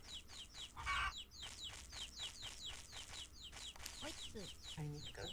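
Repeated chirpy bird-like calls from chickens in a coop in the video game Chulip sound steadily, with a brief low rumble and a few squawky tones near the end.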